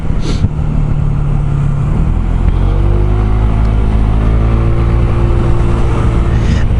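A small Chinese-made motor scooter engine drones steadily up close, its pitch shifting slightly as it rides along, with rushing wind noise throughout.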